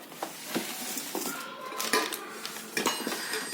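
A small pressure cooker is handled at close range with a run of metallic clanks, taps and scrapes in an uneven rhythm, and no talking over them.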